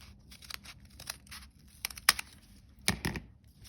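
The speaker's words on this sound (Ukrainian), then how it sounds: "Я складаю, притискаю щільно, щоб мої ножиці одразу відрізали з усіх боків зайві частини" Scissors snip through tightly folded paper while a paper Christmas tree is cut out, a few close, sharp, separate cuts and crisp paper rustles at irregular intervals, with no talk.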